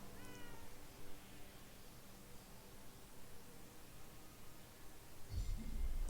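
A cat meows in the video game Forspoken, a short faint mew at the start over a loud hiss of game background noise, followed by a louder bump near the end.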